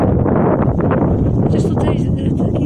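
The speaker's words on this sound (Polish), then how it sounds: "chociaż tutaj taki jest wiatr dość, jak wyszliśmy tak wysoko" Steady wind buffets the microphone high up on an autumn walk in a constant rushing roar, loud and close throughout.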